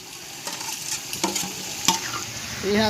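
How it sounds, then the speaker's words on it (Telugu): Hot oil sizzling and crackling as green chilies, mint and coriander fry in a pan over a wood-fired stove, with stirring scrapes and spatters, close and busy. "బాగా సరసరా అంటుంది నూనె"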